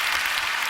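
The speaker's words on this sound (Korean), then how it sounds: "여러분, 박수 한번 크게 쳐주세요" Dense applause from a church audience at a testimony talk, steady and loud throughout a brief burst with no voices over it.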